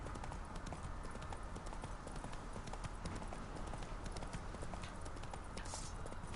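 Roach, Geralt's horse in The Witcher 3, gallops with a fast, even clip-clop of hooves over a constant wash of game ambience, with no voices.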